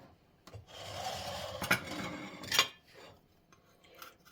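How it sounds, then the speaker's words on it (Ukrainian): Apples are peeled for a grated apple and cottage cheese pie, giving close, dry scraping and rasping strokes in short bursts with a couple of sharper scrapes. "Тільки знімаємо з них шкірочку."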